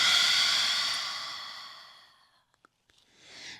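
A long, breathy exhale during a yoga session, loud at first and fading steadily over about two seconds, followed by a few faint clicks and a soft new breath beginning near the end.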